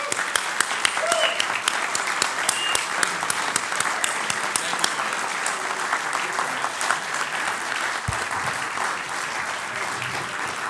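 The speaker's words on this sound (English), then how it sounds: "How about another round of applause for our speaker?" Sustained, fairly loud applause fills a National Press Club room for Governor Rick Perry, dense clapping from many hands with a few sharper individual claps on top.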